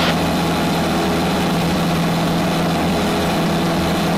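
A steady piston engine drone from a Zenith CH 750 Cruzer light aircraft in flight, with a low, even hum and constant vibration, running without pause throughout; no voices.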